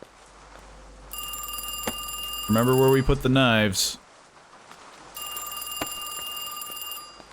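An electronic phone ringing in a customer service video game, a steady high ringing tone that plays, pauses while someone talks, then resumes, fairly loud and close.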